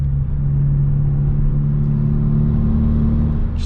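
Steady, loud engine drone from inside a 2017 Hyundai Veloster Turbo with a K&N intake, driving in sport mode; a constant low rumble and hum with no revving peaks and no talking.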